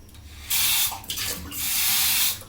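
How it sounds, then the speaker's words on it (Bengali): Half a cup of water is poured into a pot of chicken being cooked as a black chicken bhuna, giving two close, hissing splashes with a short pause between them. "হাফ কাপের মতন পানি"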